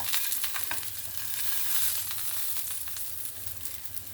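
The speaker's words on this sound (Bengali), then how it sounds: "এখানে আমার সমস্ত চিকেনগুলো ভাজা হয়ে গেল" Pieces of chicken for chicken malai tikka frying in oil in a pan, with a steady, dense, close sizzle and crackle throughout and no talk.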